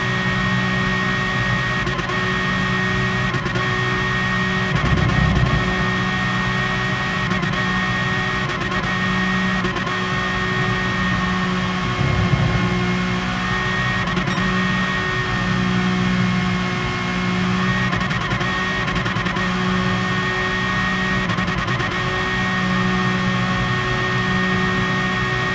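Race car engines from the GT Sport video game drone continuously through a long stretch, a steady mechanical hum and whine with occasional slight surges.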